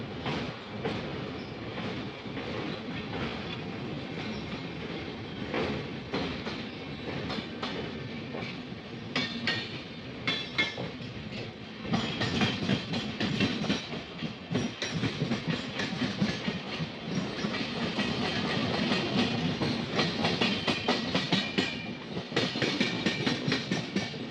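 An empty freight train rolls past on the rails with a loud, continuous rumble and rhythmic clacking of wheels that grows louder toward the end.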